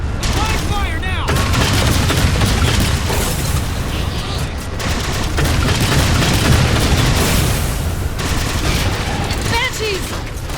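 Heavy gunfire in Halo 4 against Covenant forces, a loud, sustained fusillade of rapid shots and booming blasts that runs nonstop, with radio-style voices calling out over the battle.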